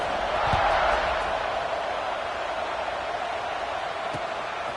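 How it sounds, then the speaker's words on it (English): Constant stadium crowd roar in a College Football 26 game between Michigan State and Nebraska, a steady wash of buzzing noise that holds at one level throughout, with a couple of faint thumps. "this crowd is buzzing after that last score"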